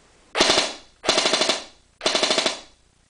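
Three short full-auto bursts from an airsoft gun powered by a LiPo battery, each a rapid rattle of about half a second with brief pauses between, loud and close with no talking.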